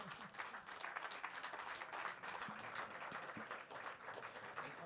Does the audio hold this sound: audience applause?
yes